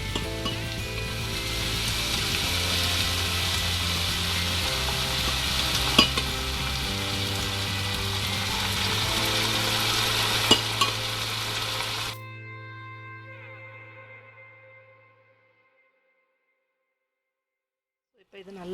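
Chicken masala being sautéed in a pan with yogurt, ginger and garlic, a loud, steady sizzle and frying hiss with occasional stirring clinks that cuts out sharply, leaving a fading hum and then near silence.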